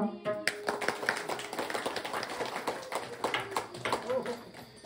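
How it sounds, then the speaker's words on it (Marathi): Audience applause at a Marathi kirtan performance, dense rapid clapping from many hands that starts abruptly and carries steadily throughout, with some talk mixed in. "त्यासाठी जोरात टाळ्या म्हणावा"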